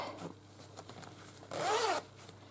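The zip on a hand-stitched fabric zipper pouch runs once in a quick, close rasping pull against a quiet room.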